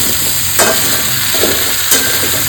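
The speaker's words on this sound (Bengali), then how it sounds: "নেড়ে চেড়ে ভাজবো" Vegetarian curry cooked without garlic or onion is stirred and fried in a pan, giving a steady broad sizzle with soft scraping strokes at two points, close and alone.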